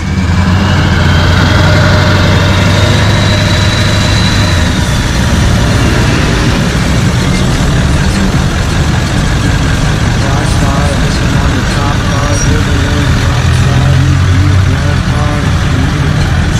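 A Ford Powerstroke diesel truck idles nearby at a spring rod run car show, a steady loud rumble that runs throughout under crowd noise and people talking.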